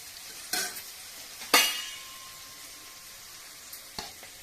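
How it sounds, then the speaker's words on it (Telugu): Spinach and amaranth leaves fry in a pan with a soft, steady sizzle, broken by two sharp scraping stirs near the start and a lighter clack toward the end. "తీసుకున్న పాలకూర తోటకూరను వేసేసుకోవాలి. చక్కగా వేగుతున్నది ఇది."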